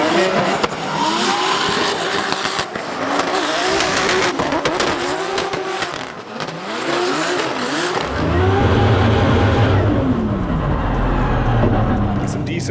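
A drift car slides through the clipping zones at a drifting competition, its engine revving hard and falling and rising steadily with squealing tires, loud and sustained, while a commentator talks over it.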